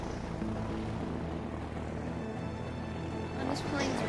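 A propeller plane flies in the video game A Way Out, a steady droning engine hum held throughout at a moderate level, with brief voices near the end.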